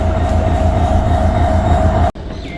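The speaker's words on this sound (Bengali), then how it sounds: "তো এই হলো আমাদের ট্রেন এবং আমাদের ট্রেনের লোকোমোটিভ" Locomotive 3001 stands at Cox's Bazar railway station, giving a loud, steady engine drone with a constant tonal hum that drops out abruptly near the end before resuming more quietly.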